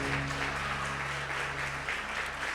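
A church congregation claps together in steady, dense applause that fills the room, with a sustained low musical tone humming beneath it.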